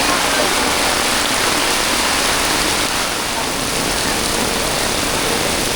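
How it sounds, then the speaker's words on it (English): Steady, loud roar of a roadside waterfall in Kerala, continuous broadband rushing water throughout, with a faint hint of an engine underneath. "Look at the beautiful waterfall"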